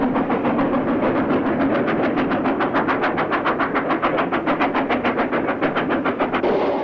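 Steam locomotive hauling a down train for Birmingham up the last mile of a 1 in 110 bank in 1962, its exhaust beating in a steady, rapid rhythm of sharp chuffs over a continuous rumble of engine and rolling stock.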